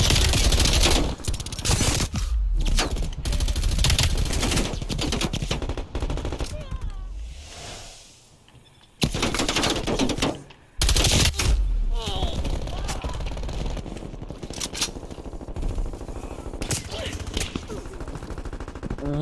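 Automatic and rapid gunfire from Call of Duty Cold War, loud and dense with repeated bursts, briefly dropping near the middle before heavy firing resumes; game effects and some talk mixed in.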